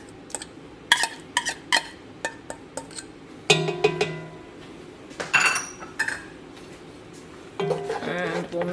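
Metal spoon clinking and scraping against a pot while curry paste is stirred in for a Thai Panang chicken curry, giving irregular sharp taps and a few longer scrapes up close, with a voice talking briefly.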